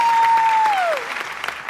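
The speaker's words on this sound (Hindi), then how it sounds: "ये बहुत सारी तालियां" Studio audience applause on a TV talk show, loud and close, with a steady electronic tone gliding downward over the clapping in the first second before the applause thins out.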